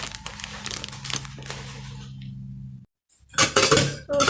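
Stainless steel vessels knocked and clattered while being unboxed, with crinkling packaging and light metallic clinks, a brief pause, then a louder burst of rustling and clanking.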